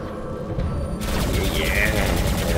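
Gunfire and laser weapon bursts from mech battles in the PC video game War Robots, a dense loud barrage that intensifies partway through, with someone talking over it.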